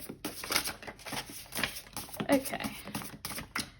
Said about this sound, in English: I'm gonna shuffle them quickly